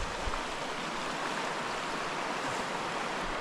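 An icy cold river in remote winter New Zealand flows with a steady, broad rushing hiss, even and uninterrupted, at moderate distance with no voices.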